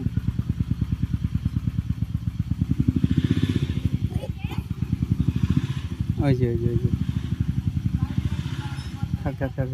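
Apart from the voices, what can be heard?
CD engine motorcycle running with an engine fault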